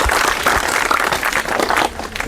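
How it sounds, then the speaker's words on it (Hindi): Crowd applause and clapping for a Bihar matric topper, a girl who scored 436 marks, filling the room with a dense, steady patter at close range. The clapping runs for about two seconds and then eases slightly. "ताली मार दो यार"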